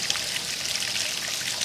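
A garden water feature trickles and splashes steadily. The bright, continuous watery rush stays close and even throughout, with no voices.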